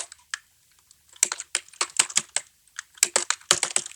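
Typing a table name on a computer keyboard: bursts of quick, crisp keystrokes in irregular runs with short pauses, close and fairly quiet, with no voices.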